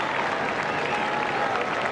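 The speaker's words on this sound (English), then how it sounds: "Applause echoing all round the grandstand, all round Epsom Downs" A racecourse grandstand crowd at the 1997 Epsom Derby applauds a winner, with a steady wash of clapping and cheering echoing across the stands throughout.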